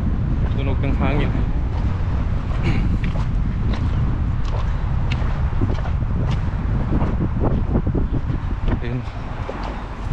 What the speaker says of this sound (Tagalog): Tunog ng hangin.